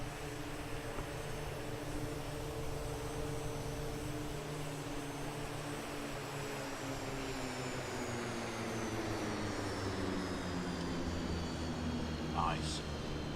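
An aircraft flies by at a distance, a faint steady engine drone with a slowly falling pitch running throughout, softly in the background.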